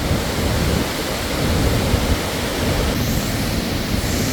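Tad Kuang Si waterfall in Laos, in flood with very high water and drifting spray, gives off a dense, constant roar. The sound is loud and unbroken throughout, with no voices.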